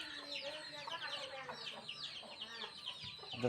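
Five chicks cheeping rapidly at close range alongside soft clucking from a lying-down hen, a busy, continuous chorus of small bird calls.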